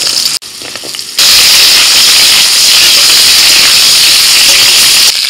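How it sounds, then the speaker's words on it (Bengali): Long-cut potato slices drop into hot mustard oil in a wok. A quiet start gives way to a sudden loud, sustained hiss of frying that fills the rest of the clip. "আবারও কড়াইতে সরষের তেল দিয়ে ওর মধ্যে দিয়ে দিচ্ছি লম্বা করে কেটে রাখা আলু।"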